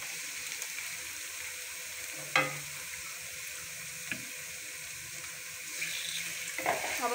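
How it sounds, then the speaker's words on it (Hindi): Chicken liver fries with golden onions in a pan for a masala kaleji, giving a steady faint sizzle with a few soft clinks of stirring and no voices. "अब हम लोग इसको इसके साथ फ्राई करना है तकरीबन 5 मिनट, ताकि कलेजी इसके साथ अच्छे से फ्राई हो जाए।"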